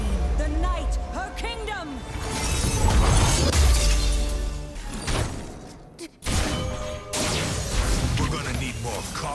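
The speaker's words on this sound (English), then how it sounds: "let you watch a few of my favorite champion level up animations" Champion level-up animation effects from the card game Legends of Runeterra play as a loud burst of layered magical whooshes, chimes, tonal sweeps and impacts. A short dropout comes near the end before a final swell.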